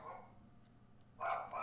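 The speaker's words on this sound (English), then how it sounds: "Woo, the dogs!" Several dogs barking in a room, a burst of loud, close barks after a quieter stretch, with brief overlapping yaps.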